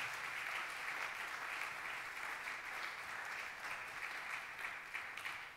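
Congregation clapping together at a church service, steady dense applause heard at a distance and fairly faint, sustained throughout without pause.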